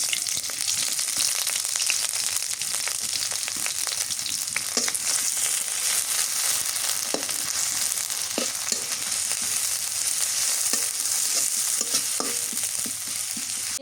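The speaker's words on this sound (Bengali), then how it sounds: "পেঁয়াজ মশলা ভাজা হয়েছে" Chopped onions with bay leaf and garam masala frying in a pan, giving a steady loud sizzle throughout, broken by occasional scraping stirs and clinks.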